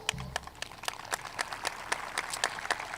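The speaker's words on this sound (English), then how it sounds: "Please give these families a round of applause." Scattered, uneven claps from a small crowd at a high school commencement ceremony, a thin patter of applause rather than a roar, lasting a few seconds.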